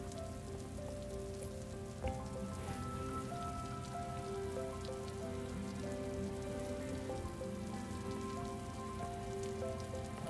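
Gentle rain falls steadily on surfaces for the whole stretch, soft and even with no pauses, heard alone with no voices; faint tonal hum lines sit beneath the patter.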